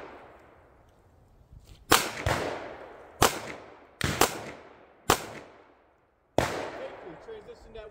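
Handgun shots at an outdoor conceal-carry qualification range, five sharp cracks spaced about a second apart, each trailing off in a short echo, fairly loud against a quiet background.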